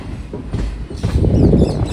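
A passenger train on the Chennai line overtaking, heard from inside another train: a loud continuous rumble with rattling wheel noise and clatter that swells toward the end.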